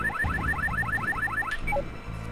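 Alarms in the Metaltech: Earthsiege video game: a warbling two-note siren repeats rapidly and evenly for about a second and a half, then gives way to a few short electronic beeps over a low rumbling engine drone.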